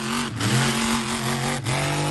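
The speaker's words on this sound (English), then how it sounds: "Oh, that's a model truck." A model truck's small engine revs steadily and loudly, with a couple of brief dips in the whine, and no voices are heard.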